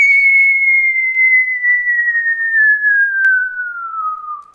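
Synthetic whistle tone built in Audacity, one steady sustained note that glides slowly downward over about four and a half seconds, loud and clean with a brief click near the end, alone.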